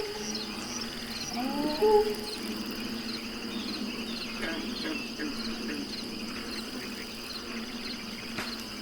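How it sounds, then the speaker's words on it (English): Crickets and frogs chorus at night in a bayou, a steady high insect trill with scattered croaks and calls, moderately faint and continuous, a brief louder burst near the start. "where all you can hear are the crickets, the frogs, the water lapping"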